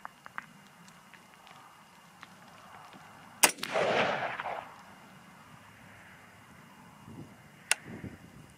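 A .223 rifle fires outdoors during field testing, with one sharp, loud report followed by a rolling echo and a second crack several seconds later. The surroundings are otherwise quiet.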